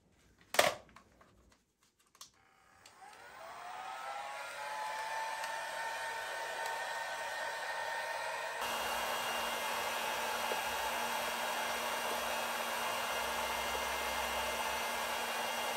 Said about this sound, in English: I'm gonna get this nice and soft with the heat gun, and hopefully it'll just slide right into place.